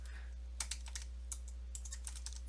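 Keys tapped on a computer keyboard while a file name is typed, a quick irregular run of light clicks close by over a steady low hum, no talking.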